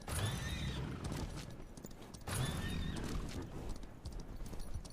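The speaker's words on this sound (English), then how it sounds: "I love this horse." Horse in the Western video game Far Far West, with steady clip-clop hoofbeats and two drawn-out whinnies over a dense game soundscape, loud and close throughout.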